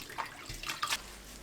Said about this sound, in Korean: 불린 미역을 조물조물 씻어주세요.